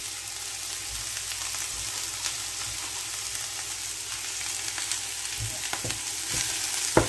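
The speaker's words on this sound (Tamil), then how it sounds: "இதெல்லாம் போட்டு கிண்டிட்டு இது நல்லா வேகட்டுப்போம்." Vegetables fry and sizzle steadily in a pan, with intermittent stirring knocks and scrapes from a utensil and no voices.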